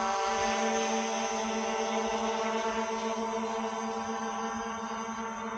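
An SG 906 Max3 drone flies with a steady, sustained propeller whine, a constant high-pitched buzz carrying through the whole stretch without a break.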